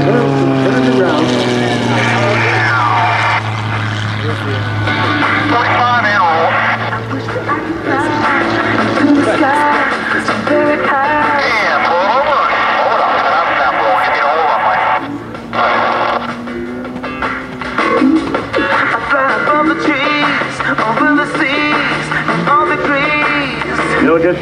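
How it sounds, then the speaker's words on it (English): Aerobatic aircraft from the Iron Eagles team at the 2006 Westfield International Airshow roar through a head-on knife-edge pass, a loud, continuous engine drone that swells and shifts in pitch under steady public-address commentary. "as they bring it back for the head-on knife-edge pass"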